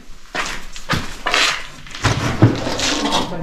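Pots and pans clank and knock as they are handled inside an old oven in an abandoned manor. The close, uneven metallic clatter comes in several bursts with no voices.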